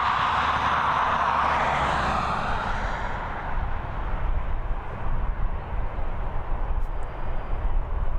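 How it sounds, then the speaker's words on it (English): A Ryanair Boeing 737 arriving at Dublin Airport from Palma, its broad engine roar loud and steady at first, then easing off into a lower rumble as the jet passes. "A Boeing 737 coming in from Palma, operated by Ryanair."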